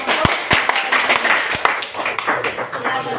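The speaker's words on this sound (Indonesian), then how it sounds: "Tepuk tangan untuk kelompok." Classroom of students clapping for a student group, a few sharp, scattered claps standing out over a murmur of talking voices in the room.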